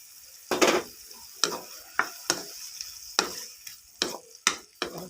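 Pork stir-fried with seasoning in a pan, a steady sizzle broken by repeated clicks and scrapes of a utensil stirring, close and loud, no voices.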